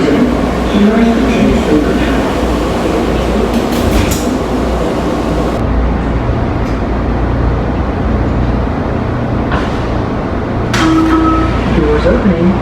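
A WMATA Metrorail Orange Line train rumbles loudly inside the car as its doors close, with a short two-tone chime ringing out near the end over the steady rail noise.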